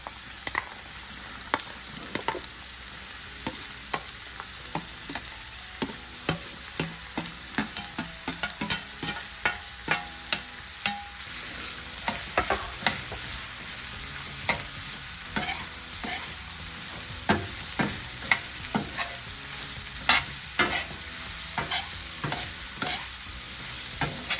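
Onions fry with steady sizzling in a hot pan for paneer bhurji, with frequent clicks and scrapes of a spatula stirring, continuing throughout without any talking.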